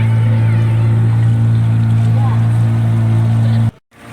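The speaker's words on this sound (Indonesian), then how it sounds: "Ya, sekitar 25 orang satu perahu ini. Ini perahu motor." Motorboat ferry carrying about 25 people, its engine droning steadily and loudly close by before cutting out abruptly near the end.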